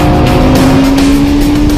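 Audi race car lapping the Mugello circuit, a loud sustained engine roar from inside the car with a steady high whine, brief and continuous.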